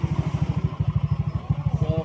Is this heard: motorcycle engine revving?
yes